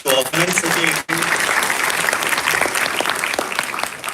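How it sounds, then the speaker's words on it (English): A community tech-conference audience breaks into loud, sustained applause after a brief voice at the start, the clapping dense and continuous for several seconds with a momentary dip early on. "a big round of applause for them to organize such a event"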